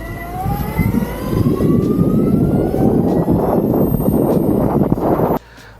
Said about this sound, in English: The noise that this gear drive system makes, it's like a turbo spooling up on a car.